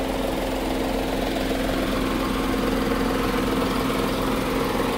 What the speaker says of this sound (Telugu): ఇదిగోండి 3 పిస్టన్ ఇంజన్ ఇది.